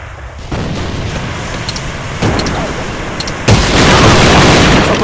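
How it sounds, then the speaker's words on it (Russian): Grenade blasts in the AVA shooter game, a series of loud booming bursts that step up in intensity, with the last and heaviest explosion sustaining a dense rumble through the end. "Бросаю гранату!"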